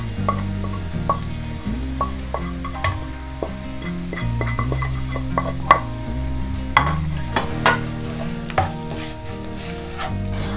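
Onions sizzle in a pan with turmeric and spices for samosa filling, a steady frying hiss broken by sharp scrapes and clinks of a spoon stirring against the pan.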